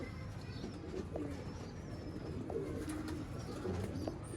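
Ferozpuri breeder pigeons cooing softly at a loft, with faint low repeated coos and light chirps over a quiet hum of background noise.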